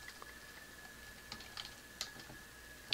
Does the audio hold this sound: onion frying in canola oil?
no